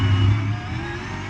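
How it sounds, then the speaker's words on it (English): NASCAR Cup stock car on the Charlotte ROVAL road course, running loose and sliding its rear tires, a loud close engine roar that eases slightly after the first half-second, with no talk. "Oh, you can hear it sliding the rear tires."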